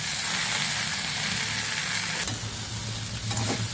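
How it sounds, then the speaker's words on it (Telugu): Okra frying in a pan for a gravy, a steady loud sizzle with occasional stirring scrapes and no talking. "బెండకాయలు వేగిపోయి చూడండి, మెత్తగా అయిపోయి"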